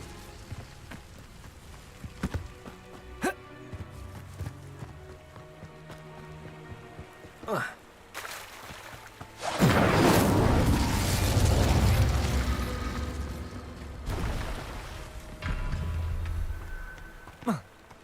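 Fire spells cast in Hogwarts Legacy burst into a roaring, crackling blaze that swells for several seconds amid scattered pops and game effects, with short sharp impacts before and after.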